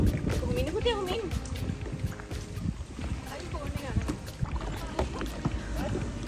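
A kayak is paddled on a kayaking ride along Sri Lanka's south coast, with rhythmic paddle dips, gurgling water and light wind noise, while voices talk close by.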